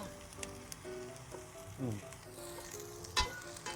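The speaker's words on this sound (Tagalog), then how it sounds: "Masarap yung gisang-gisa yung bawang." Garlic sizzles softly in a pan, sautéed as the start of pakbet, a quiet steady crackle with occasional spoon scrapes and clinks against the pan.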